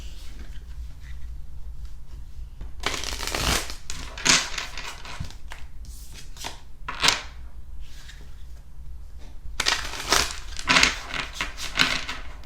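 Tarot cards are shuffled in several bursts, with crisp riffling and slapping passages separated by quiet pauses, close and fairly loud with no talking.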